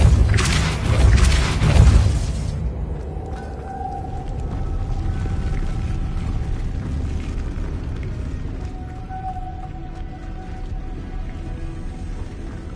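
In Hogwarts Legacy, a Depulso spell sets a mechanism spinning to raise a cup: a loud magical burst and rumble at first, then a low grinding whir with drawn-out groaning, whale-like tones as it turns.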